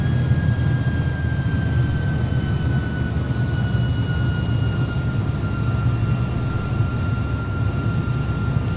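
Simulated Airbus A300-600 jet engines from X-Plane 11 produce a steady, continuous low roar with a thin high whine that drifts slightly in pitch, constant in loudness throughout.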